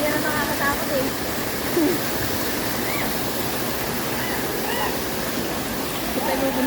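A waterfall and stream pour steadily outdoors on a nature walk, a dense, continuous broadband rush at a constant level, with faint voices under the water.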